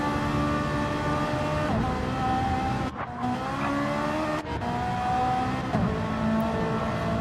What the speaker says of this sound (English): Sound great as well, these Ferraris.